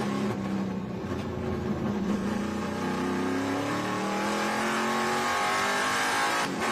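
Onboard a Ford Mustang race car on a street-style circuit, the engine roars loud and close, holding high revs with rising and falling pitch as it works through gears.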